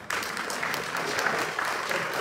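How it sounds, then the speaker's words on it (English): Church congregation at a sermon breaks into brief, dense applause, a steady wash of many hands clapping with no pauses. "You're clapping for what God has done."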